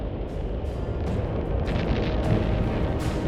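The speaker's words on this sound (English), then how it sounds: "witness the terrifying power of an atomic bomb" An atomic bomb test blast is heard as a sustained deep rumbling roar, loud and continuous for a few seconds with rolling low-end turbulence and no voices.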